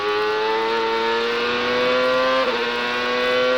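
A 2002 CART race car at speed during Friday qualifying at Road America, its engine a loud sustained high whine holding steady pitch, with a quick shift blip midway and no voices.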